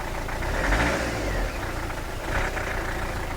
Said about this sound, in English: Now that it's started again, it seems to be running, it's idling away.